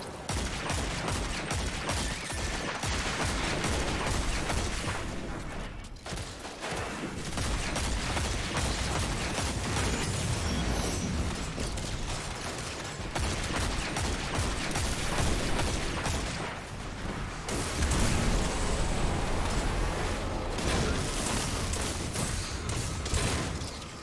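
Video game combat with rocket launcher fire and explosions mixed into constant gunfire, steady dense bursts and booms throughout, loud with short dips between volleys.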